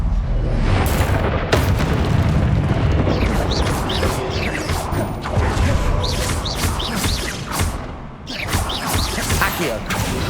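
Confringo blasting spells explode in the Hogwarts Legacy video game: a series of loud booming blasts and crashing bursts in quick succession, layered with crackling magical effects and ongoing game noise.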